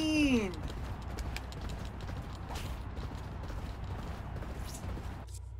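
Horse hooves galloping in the racing video game Champion Jockey, a steady dense clatter of racing hoofbeats carried under a busy game soundtrack, with a brief swooping tone at the start.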